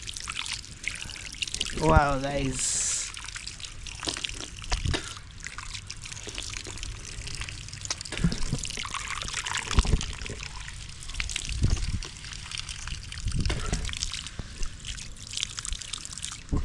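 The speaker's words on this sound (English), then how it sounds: "Maybe I need to wash my hands." Water trickles and splashes steadily from a tank while hands are washed outdoors, a continuous running flow with a few brief spoken words over it.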